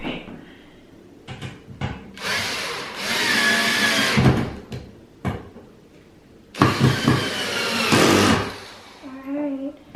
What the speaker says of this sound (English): you want to go in with the screws and start screwing down the aluminum to the wood